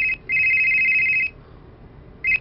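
A telephone rings with two long electronic tones separated by a short gap, a third ring starting at the end, clear and close over a quiet background.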